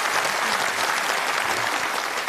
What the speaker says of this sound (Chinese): 请大家先鼓掌，先鼓掌，先鼓掌。